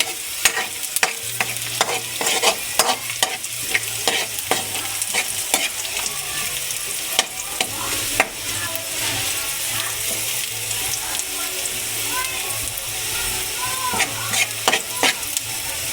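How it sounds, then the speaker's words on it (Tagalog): Ground pork sautéing for lumpiang Shanghai, a loud close sizzle broken by frequent sharp spatula scrapes and clacks against the pan in an irregular rhythm, with no talking. "Gigisa na rin natin yung giniling natin para sa lumpiang wrapper, lumpiang Shanghai"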